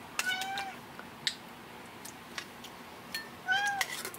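A pet cat meows twice, close and fairly loud, with short drawn-out calls at the start and again near the end, separated by quiet room sound and a few faint clicks; no talking.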